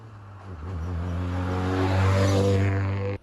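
A 1990s first car with a full straight-through stainless steel exhaust drones close by, its engine note swelling as it revs up and holding loud before cutting off abruptly.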